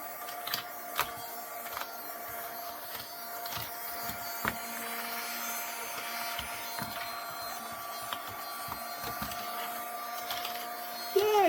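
A small Vivitar mini desktop vacuum runs with a steady, thin mechanical whine throughout, carrying a faint buzzing hum, with a few light clicks and knocks scattered over it and a brief louder burst near the end.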